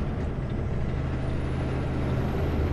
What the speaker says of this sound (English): I'm going to risk an upshift